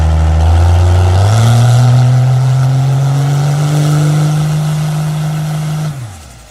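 A turbocharged race car on nitrous accelerates hard at a test session, a loud, close engine roar climbing steadily in pitch through a long pull before abruptly backing off near the end.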